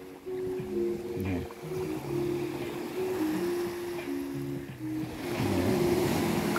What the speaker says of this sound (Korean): 하얀 파도가 네, 이렇게 철썩철썩 하면서 있고요